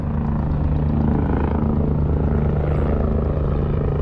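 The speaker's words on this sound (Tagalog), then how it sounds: "Helicopter." A helicopter passes overhead near a fishing spot in Hong Kong, its loud rotor thump and engine drone holding steady throughout with no talk.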